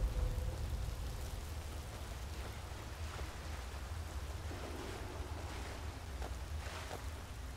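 Continuous rushing water and surf-like wash in the Skyrim video game, a dense, even roar with faint splashes throughout and no talk.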